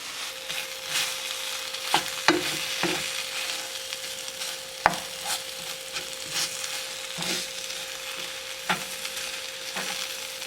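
Beef kabobs with onions and mushrooms being stirred in a frying pan, a soft continuous sizzle with scraping and knocking of the utensil at irregular moments, no talking.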